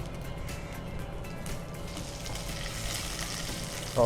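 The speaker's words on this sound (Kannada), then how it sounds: "ಸಾಸಿವೆ ಸಿಡಿದಾದ ನಂತರ ಕರಿಬೇವು ಹಾಕಬೇಕು." Curry leaves sizzle in hot oil after mustard seeds splutter, a continuous close, steady frying hiss with faint crackles and no talking.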